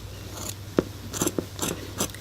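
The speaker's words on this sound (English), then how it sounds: "And my scissors are kind of dull." Dull scissors snipping through shirt fabric in a few separate crunchy cuts, close and fairly quiet, with a steady low hum underneath and no talking.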